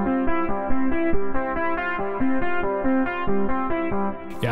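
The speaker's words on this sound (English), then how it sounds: "This is an FM sound I made." A bright, glassy 80s-style FM synthesizer arpeggio in Sylenth1 pulses in a steady, rapid pattern of repeating notes with a metallic, electronic timbre, playing alone.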